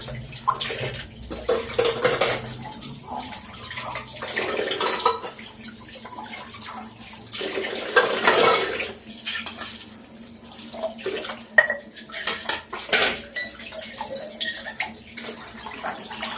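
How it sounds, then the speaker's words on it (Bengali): Running tap water splashes steadily while dishes and tea utensils are rinsed in a sink, with occasional clinks of pots and cups, close and moderately loud. "যে আমার বাসন সব ধোয়া হয়ে গেল, চায়ের বাসন এই দুটো ছিল"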